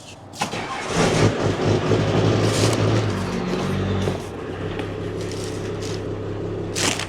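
Cummins diesel engine, sitting unused for years with missing engine parts, cranks and catches, then settles into a loud, rough, rumbling idle close by.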